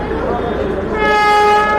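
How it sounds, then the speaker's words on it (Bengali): A Darjeeling toy train rolls into the platform with a low rumble, then a loud, sustained horn blast sounds close by in the second half of the moment. "আমাদের ট্রেন আসছে"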